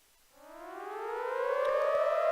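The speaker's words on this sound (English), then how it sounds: "I heard that announcement coming from the speakers on the street, and there are the sirens." Civil defense sirens wailing over the streets of Akihabara in the video game Steins;Gate 0, rising from silence into a loud, steady, climbing tone that swells and holds, with no voices over it.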